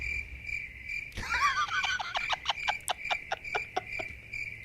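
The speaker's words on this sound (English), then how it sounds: "All you do is hit crickets on me, Ben." A cricket chirping sound effect plays as a gag, a steady high chirp over a faint background, broken by a short rough squeal and then a run of quick rhythmic chirps, with no one talking.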